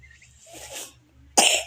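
A child gives one sharp, close cough after a few faint, breathy sounds in an otherwise quiet setting.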